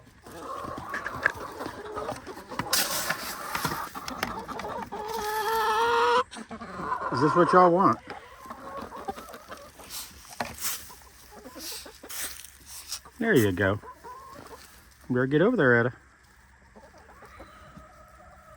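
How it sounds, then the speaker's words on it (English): Backyard hens cluck and squawk excitedly during morning feeding, busy fowl chatter throughout with several loud close calls, while someone talks to the birds between them. "And that's our morning with the chickens."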